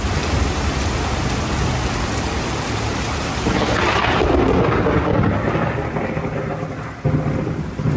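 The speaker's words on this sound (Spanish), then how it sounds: "Y sigue lloviendo." Heavy overnight rain pours steadily in Entre Ríos, Argentina, while thunder rumbles and rolls beneath it. The downpour stays loud and close, with no speech.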